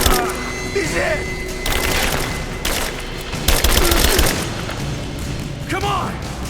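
Gunfire bursts in Rise of the Tomb Raider: rapid automatic volleys and heavy thumps come in repeated clusters, loud and close, with shouted combat voices and chatter mixed in between the shots.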